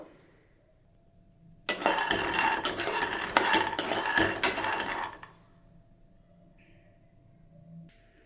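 Dry peanuts being stirred in a kadai over low heat, a dense burst of scraping and rattling clatter lasting a few seconds, then fading to quiet room tone.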